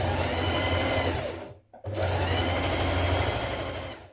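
A sewing machine stitches a 1 cm seam on a knit dress, running steadily and close with a loud whirring drone. The motor stops for a brief moment partway through and then resumes.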